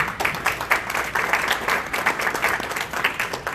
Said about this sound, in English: why don't you give everybody a round of applause for that one